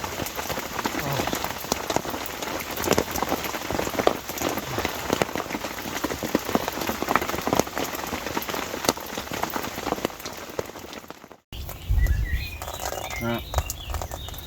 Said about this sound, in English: Rain dropping off the roof of my bivvy.